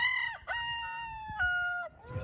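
A rooster crows loudly and close by in a restored 1892 chicken house on a farm, two or three drawn-out crows following one another, with faint low clucking from hens beneath and no talking.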